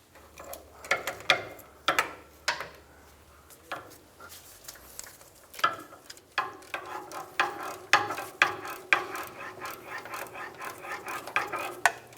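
Ratchet snugging a steering rack bushing bolt on a 2000-2006 Toyota Tundra: a series of quick clicking strokes, sparse at first, then a faster, denser run of ratcheting clicks, close and clear with no talking.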